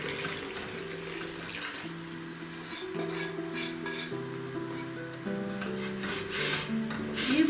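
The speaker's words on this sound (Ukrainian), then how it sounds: "Цю мукичку з молоком виливаємо в нашу капусту" A thin flour-and-milk mixture is poured into a pot of cooking cabbage and stirred, giving a steady wet, trickling wash over a soft sizzle, close and continuous, with music playing underneath.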